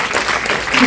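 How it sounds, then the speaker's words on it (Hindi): An audience at a children's event in Patna claps for a child on stage, a brief, dense wash of steady applause filling the whole moment at close range. "इनके लिए ताली बजा दीजिए"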